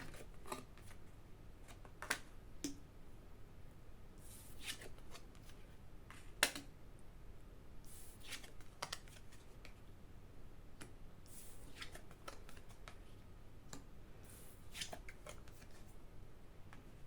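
Tarot cards being shuffled give soft, quiet riffling bursts and light flicks that come in irregular clusters, with occasional faint taps, near and with no speech.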